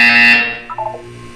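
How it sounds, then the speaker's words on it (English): A buzzer in the video game Portal 2 gives one loud, bright electronic tone that fades over about half a second, followed by a quieter short trill of descending chime-like notes. "When you hear the buzzer, look up at the ceiling."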